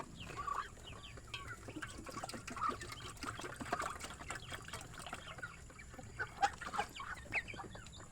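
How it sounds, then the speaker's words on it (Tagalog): A nearby duck and other poultry quack and cluck in scattered bursts, a few louder calls standing out over a quiet background. "Ito naman yung isang pato."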